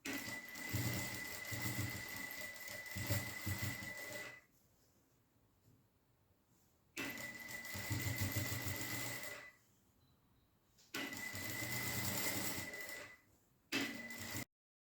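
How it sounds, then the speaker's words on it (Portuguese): Sewing machine stitching the edges of a raw cotton ecobag in three loud, close runs of fast steady whirring, separated by quiet pauses, with a short final burst. "Fiz essa costura de meio centímetro em toda a borda."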